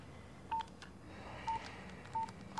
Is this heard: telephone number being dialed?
yes